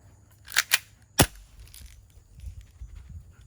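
Gun fired outdoors, three sharp reports in quick succession, the last the loudest, followed by quieter handling noises and faint background sounds.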